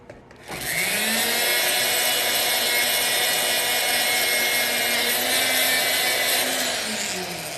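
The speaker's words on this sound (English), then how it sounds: "And then just our basic little buffing wheel." Small electric buffing wheel polishing jewelry with freshly set stones, spinning up quickly into a loud, steady high whine that holds evenly for several seconds before easing slightly at the end.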